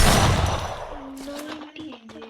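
A shotgun fires in a video game, a loud blast that decays over about a second, followed by a voice talking.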